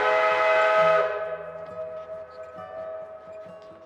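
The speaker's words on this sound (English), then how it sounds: "we blow the whistle and it just echoes back" A narrow gauge railroad steam whistle blows loud and sustained, then cuts off and leaves a long tonal echo ringing back from a valley with faint clanks beneath.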